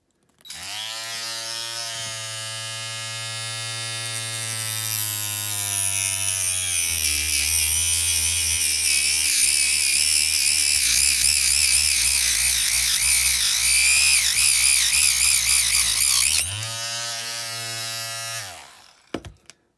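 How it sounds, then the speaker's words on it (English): A Dremel rotary tool cuts into a model car casting, a loud, high, steady whine that holds for most of the stretch, its pitch dropping and wavering while under load, then rising again before it stops. "you can use a Dremel or any kind of cutting tool to do this"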